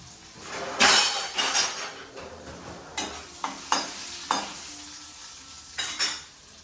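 A ladle stirs vegetable curry in a pan with sharp scrapes and clinks at irregular intervals over a soft, steady sizzle, fairly close and with no talk.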